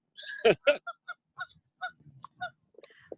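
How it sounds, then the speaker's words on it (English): Several geese honk in a rapid series of short, nasal calls, fairly close, with brief pauses between them. "The geese are back."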